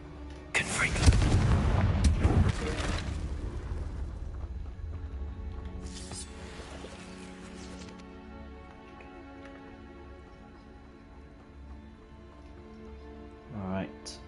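A Confringo fire spell cast in the Hogwarts Legacy video game bursts loudly near the start, a roaring blast with crackling impact that fades into a low ambient game hum, with a brief sharp effect near the end.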